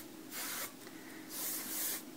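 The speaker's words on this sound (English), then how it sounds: "I do like to take, like I said, this BioSilk Shine On. It's an aerosol." BioSilk Shine On aerosol hair spray is sprayed onto wavy styled hair in a few short, close hissing bursts separated by brief pauses.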